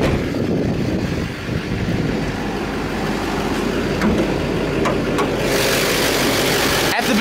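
A 2009 Chevrolet Silverado 3500HD's LMM 6.6-liter Duramax turbo diesel V8 idles steadily up close, a low continuous rumble with some mechanical clatter and a couple of brief clicks near the end.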